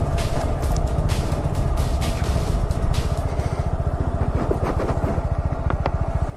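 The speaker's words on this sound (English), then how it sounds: "this biker was doing wheelies in a parking lot" A motorcycle engine revs and rumbles steadily close by in a parking lot during wheelies, a loud continuous pulsing drone with throttle swells and no talk over it.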